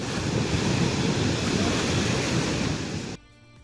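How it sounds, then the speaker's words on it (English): Lobe Waterfalls in Kribi, Cameroon, a series of falls up to 20 meters high pouring over rugged rocks straight into the Atlantic Ocean, heard as a steady, dense roar of rushing water that cuts off abruptly near the end. "it comprises of a series of waterfalls that flows directly into the Atlantic Ocean, cracking down rugged rocks"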